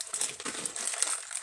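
Plastic packaging crinkles steadily close up as it is pulled open, a continuous dense crackling with no talk over it.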